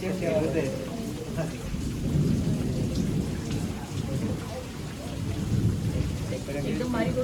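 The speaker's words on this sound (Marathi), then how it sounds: "आता पाऊस इलेलो हा." Steady rain pours throughout during a May wedding gathering in Konkan, a dense broadband wash with low rumbling swells that may be thunder, and faint voices murmur underneath.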